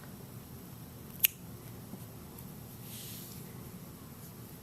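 One crisp snip of scissors cutting folded yarn strands for a knitted Spiderman beanie, a single sharp click in a quiet room with no talk.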